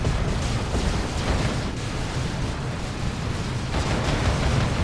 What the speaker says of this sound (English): Hell Fury dropped in on the Heretics